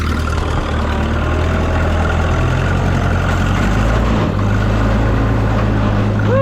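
A classic four-cylinder tractor engine labours loudly and up close while pulling a plow, a steady low rumbling drone that runs without a break for the whole stretch.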